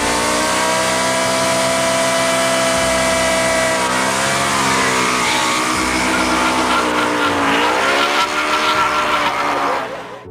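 A Yamaha V Max muscle motorcycle engine revs hard and loud with a rising, shifting howl, the rear tire spinning under it, continuous and close for about ten seconds before the sound cuts off.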